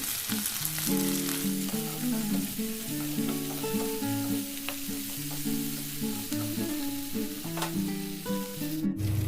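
Chopped onion and salt fry in a pan for potato bhujia, giving a loud, continuous sizzle close by with background music running underneath.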